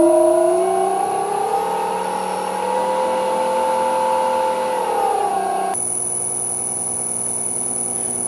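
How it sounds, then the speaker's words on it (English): A lathe motor driven by a VFD at 20 Hz, set up for machining a brake rotor, hums with a steady electric whine that rises slightly, then shifts to a different, thinner tone near the end. "that's about the speed I need to run the lathe for machining the disc brake"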